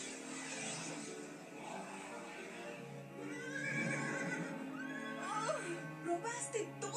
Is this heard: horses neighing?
yes